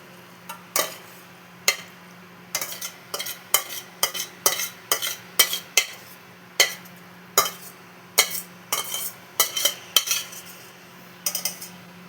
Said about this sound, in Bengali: এবার আমি সার্ভ করে নেব। আমি এটা সার্ভ করে নিচ্ছি।